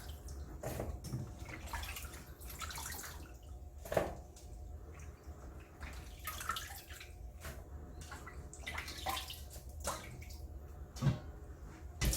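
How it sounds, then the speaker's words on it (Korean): Salted napa cabbage being rinsed in water for geotjeori kimchi: soft splashing and sloshing with a few small drips over a low, steady background, faint and close by. "물에다가 한번 헹궈서 물기를 빼야 돼."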